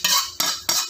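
Utensils clink against a dish while pancit with sardines is plated: three sharp metallic taps, evenly spaced and close by, each ringing briefly.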